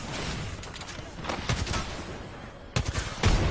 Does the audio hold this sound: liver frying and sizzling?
no